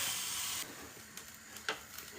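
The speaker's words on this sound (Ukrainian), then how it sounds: "вже починає у мене шкварчать." A soft hiss of shawarma sizzling in a pan, briefly louder at first then settling into faint crackles and pops.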